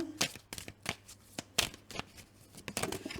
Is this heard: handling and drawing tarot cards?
yes